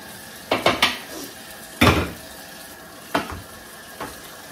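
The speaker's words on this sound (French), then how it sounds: "Il ne me reste plus qu'à faire la vaisselle" Pots, dishes and cutlery clatter in a sink during washing-up, several sharp knocks and clinks spaced apart over quiet running water, fairly close.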